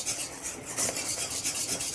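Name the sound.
stirring thickening puran mixture in pan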